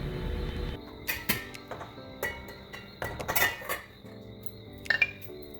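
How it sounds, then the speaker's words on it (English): A wooden spoon stirs a pot of corn pork, making irregular knocks, clinks and scrapes against the pot. The sounds come close and at moderate loudness, with no talking. "I'm gonna go in with my wooden spoon and just stir just to ease anything from sticking"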